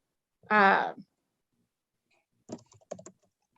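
A short human vocal sound comes first, then after a pause a brief burst of quiet keyboard typing with a few separate key clicks close by.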